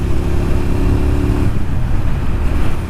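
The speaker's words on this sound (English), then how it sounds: "because of its 70-ish horsepower 645cc V or L twin engine" Suzuki SV650 2002 with a 645cc V-twin, engine running close up, a loud throbbing low rumble that holds steady and then shifts slightly in tone partway through.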